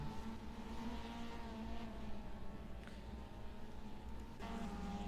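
Race car engines at a 2024 MITS car feature in northwest Ohio drone steadily as one car overtakes another on track, a continuous loud roar that shifts near the end.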